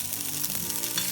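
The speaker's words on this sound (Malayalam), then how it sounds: "4 പച്ചമുളക് എടുത്തിട്ടുണ്ട്, അത് ചേർത്ത് കൊടുക്കാം." Green chillies dropped into hot oil for chilli gobi crackle in a loud, close, unbroken sizzle, alone and without talk.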